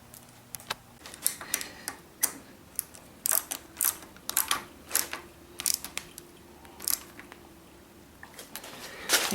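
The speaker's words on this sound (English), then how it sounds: "We're tightening up these 2 bolts next, and then we're going to install the little bolts that go up underneath the clip-ons" Wrench clicking and ratcheting as the bolts holding the clip-on handlebars are tightened on the top triple tree of a Suzuki SV650 with GSXR front end. The clicks come in close, irregular bursts with short pauses between them.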